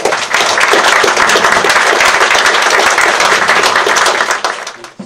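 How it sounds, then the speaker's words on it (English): Loud, dense audience applause at a human rights seminar, steady clapping from a large crowd that fills the room and tapers off near the end. "Okay, thank you again with a warm applause."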